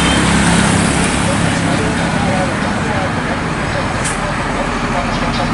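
A tour bus with a Limas Eksekutif Avante body passes on a road near Leuwiliang market, loud broadband road and engine roar close by amid steady traffic noise.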